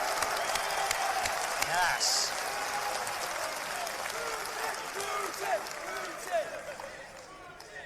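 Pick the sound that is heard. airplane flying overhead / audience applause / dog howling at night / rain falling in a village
audience applause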